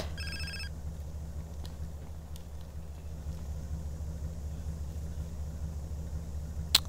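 A phone in the video game GTA San Andreas gives a short burst of trilling rings near the start, set over a steady low car-engine rumble that runs throughout.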